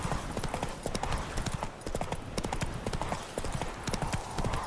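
Roach the horse gallops in The Witcher 3, a rapid, steady clip-clop of hooves running close and loud throughout, with a faint whinny and game ambience beneath.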